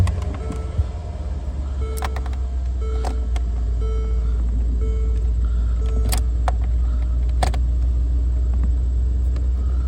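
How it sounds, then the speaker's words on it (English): A Mercedes GL550/GL450 X166 SUV engine runs at a steady low idle, a constant close rumble filling the clip with faint clicks and ticks over it, no talking. "I'll start the car."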